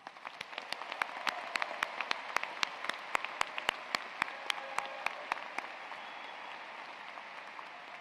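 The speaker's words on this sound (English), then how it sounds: "Let's give everybody a really rousing round of applause." Applause at a college commencement ceremony: a crowd claps steadily in the background while one nearby person's sharp, regular claps stand out, then the nearby clapping stops and the distant applause fades.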